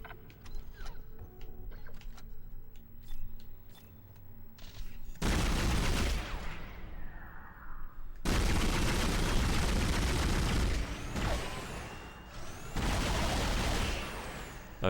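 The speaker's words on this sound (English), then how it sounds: "Pulse rifle." Pulse rifle fire in the video game Dead Space: quiet clicking and mechanical handling at first, then three loud sustained automatic bursts that each roar for a couple of seconds, separated by brief pauses.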